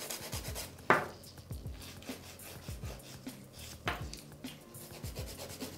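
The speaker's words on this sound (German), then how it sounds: "wir feilen den Nagel jetzt natürlich auch schon mal rund." Nail file rubbing a natural fingernail round into an almond shape, a steady close-up scratchy rasp in short repeated strokes with a few sharper scrapes, heard alone.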